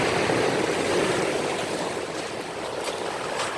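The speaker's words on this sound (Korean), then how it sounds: "아, 이 파도. 지나가야 돼." Ocean waves wash and churn steadily at close range, a continuous broadband surge of surf and rushing water that swells slightly and eases without a break, with no voices over it.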